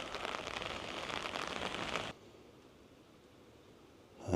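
Steady rain falling outdoors at Penmon Priory, a medieval church site on Anglesey, Wales: a dense, even hiss of drops for about two seconds, then dropping to a much quieter patter.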